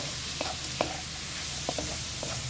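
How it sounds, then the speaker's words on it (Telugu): Onions frying in oil in a pan for a moringa leaf stir fry, with a steady close sizzle and a few light spatula scrapes and taps spaced through it. "ఓకే, ఆనియన్స్ అయితే గోల్డెన్ కలర్ వచ్చేదాకా మనం ఫ్రై చేసుకోవాలి."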